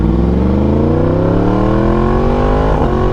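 A sport motorcycle engine revs loud and close, its pitch climbing smoothly through the gear, with a brief stutter as the quick shifter clicks into the next gear.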